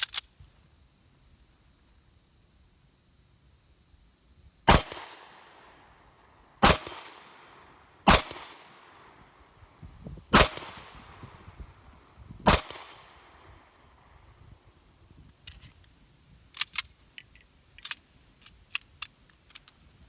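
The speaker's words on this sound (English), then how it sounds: "we're just going to start out with some slow fire with the 22 TCM" Single shots from a Rock Island Armory 1911 pistol in 22 TCM fired slowly at an outdoor range around 10 to 12 yards, five sharp loud cracks spaced about two seconds apart, followed by fainter clicks and handling noises.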